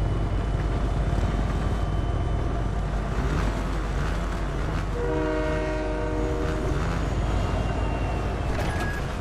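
A train in the Fortnite video game rumbles steadily with a loud, continuous roar and wind, and a sustained horn blast sounds midway.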